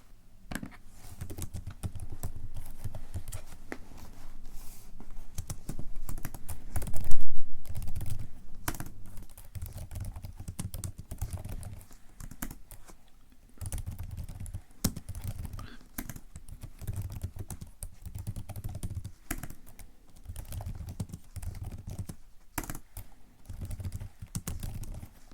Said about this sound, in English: So I'll just type this up now